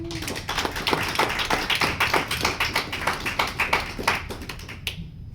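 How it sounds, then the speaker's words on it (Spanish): Small audience applauding at a book presentation and poetry recital, a few seconds of scattered, irregular hand claps from a handful of people nearby, ending abruptly. "Un aplauso, por favor."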